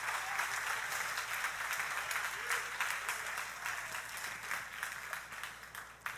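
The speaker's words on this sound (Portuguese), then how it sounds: "dá uma salva de palmas para Ele" Church congregation applauding during a Portuguese-language sermon, a steady wash of clapping from many hands that holds evenly throughout, moderately loud with a faint voice or two underneath.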